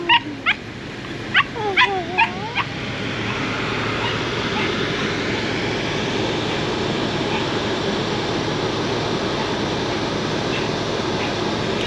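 A puppy whimpers and yips in a few short high-pitched bursts at the start, fairly close, before a steady rushing background noise takes over in Lares, Puerto Rico.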